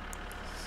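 Low, steady engine rumble of a tractor idling in My Summer Car, a faint continuous hum with no voices over it.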